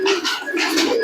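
Restless pigeons coo in a close, continuous murmur of overlapping throaty calls, with no talk over them.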